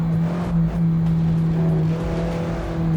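A light car in a racing video game speeds along a mountain road, its steady engine drone and road roar holding loud and close throughout with no talk.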